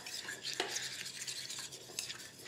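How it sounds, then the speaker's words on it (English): Royal icing being stirred with icing sugar in a bowl, a soft continuous scraping and swishing of a utensil against the bowl with a few light clinks, close and quiet with no talking. "All you do for royal icing is 1 tablespoon at a time, slowly mix this together"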